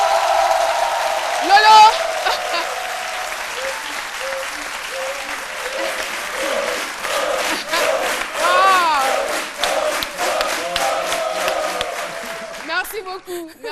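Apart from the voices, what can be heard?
audience applause, an ovation for Loïc de Denis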